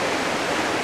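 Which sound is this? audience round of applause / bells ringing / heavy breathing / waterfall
waterfall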